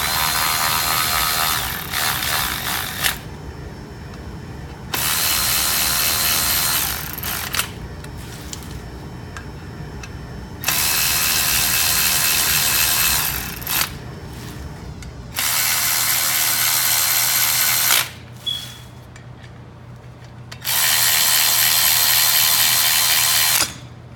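A power tool tightens T40 Torx bolts on a Wilwood big brake kit in loud, steady ratcheting bursts of several seconds each, broken by short pauses, close by.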